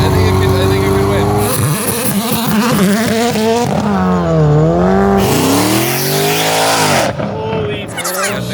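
A 1,080hp Jeep accelerates hard, its engine loud and close with rising and falling revs through several gear changes and bursts of tire noise, with voices talking under the engine.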